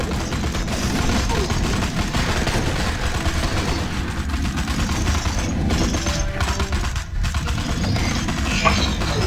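Dense, continuous gunfire crackles throughout, with rapid bursts overlapping in a busy battle in the mobile game Suicide Squad: Special Ops, and voices occasionally under it.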